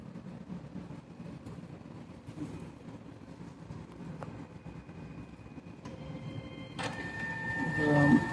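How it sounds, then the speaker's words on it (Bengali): A fax machine slowly draws in a sheet of paper and scans it, giving a steady mechanical whir with faint tonal hums that grows louder and busier toward the end. "আমাদের পেপার ধীরে ধীরে ভিতরে প্রবেশ করছে স্ক্যান হয়ে গেছে"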